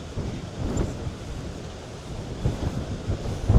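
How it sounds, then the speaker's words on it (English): Strong wind outdoors in Old San Juan buffets the microphone in rumbling, uneven gusts, loud and close with no voices. "The wind picked back up."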